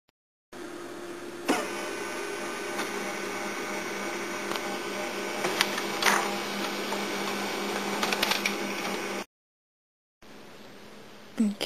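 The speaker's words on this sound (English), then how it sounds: "I can print it right through my laser printer" A laser printer runs steadily on film stock, a continuous mechanical whir with clicks and roller thumps for about nine seconds, broken by a brief silence before the motor starts again.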